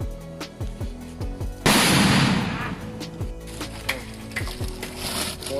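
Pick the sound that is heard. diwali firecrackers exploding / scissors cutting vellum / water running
diwali firecrackers exploding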